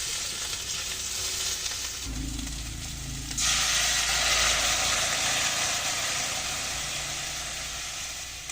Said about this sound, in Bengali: এখন আমি জলের জন্য গরম জল দিয়ে দেবো।